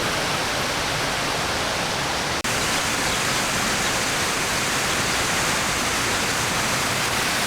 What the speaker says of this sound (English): I'm at the large fountain where a bunch of geese are enjoying the water